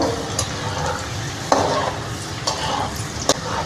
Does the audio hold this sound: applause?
no